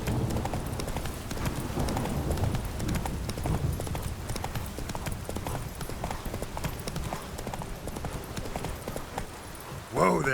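Roach the horse trots in The Witcher 3, a steady close clip-clop of hooves running throughout under game music and ambient sound, with a brief louder burst near the end.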